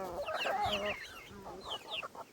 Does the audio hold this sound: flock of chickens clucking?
yes